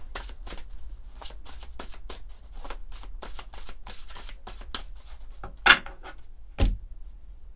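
A deck of oracle cards being shuffled close up, with repeated quick riffling bursts in an irregular rhythm and a sharper tap or cut near the end.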